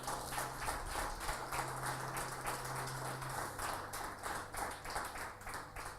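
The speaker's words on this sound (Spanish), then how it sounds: "Aplauda al Señor bien fuerte." A church congregation claps hands together in a steady rhythmic beat, faint and spread out, with a low hum underneath and no clear talk.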